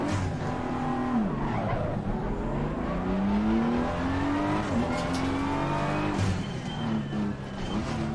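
Race car in Assetto Corsa Competizione lapping a track, a loud continuous engine note rising and falling through gear changes, with tire squeal and skidding noise throughout, no voices.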